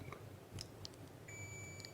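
A multimeter on continuity test gives brief, thin electronic beeps while checking a transistor in a Grundig Transworld Petite radio during repair, faint against background handling clicks and a low hum.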